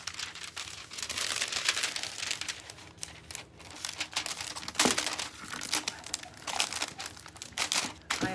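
Aluminium foil is crinkled and pressed onto a birdhouse over grout lines during a craft project, giving a continuous close crackling rustle with sharper crunches throughout, no speech.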